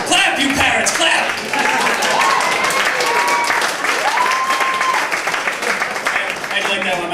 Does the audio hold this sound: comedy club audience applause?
yes